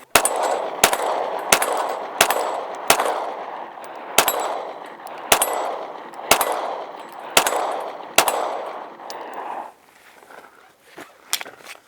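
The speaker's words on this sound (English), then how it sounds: "The CZ P10C 9mm 115 grain" A CZ P10C 9mm pistol firing 115 grain rounds on a range, a dozen sharp loud cracks at roughly even intervals, each trailing into an echoing ring, with quieter sounds after the shooting stops.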